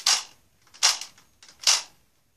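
A Nerf Zombie Strike Bowstrike toy bow fires three times at a steady, even pace, each release a short, sharp snap that trails off quickly. The shots are fairly quiet and close, with no voices in between.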